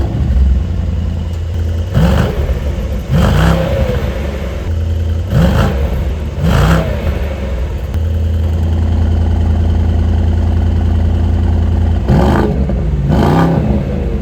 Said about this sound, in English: here's what the exhaust sounds like right here